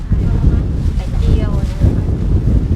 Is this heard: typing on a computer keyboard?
no